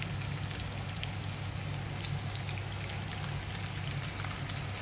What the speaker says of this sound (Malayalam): നമുക്ക് അതിലേക്ക് സവാള ഇട്ട് കൊടുക്കാം